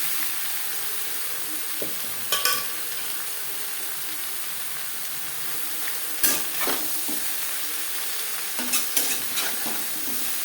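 Gourd and rohu fish curry cooks in a little oil, a continuous close sizzle broken by a few scattered scrapes and clinks of stirring.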